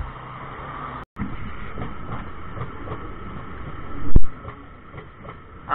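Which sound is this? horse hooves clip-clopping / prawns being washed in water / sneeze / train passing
train passing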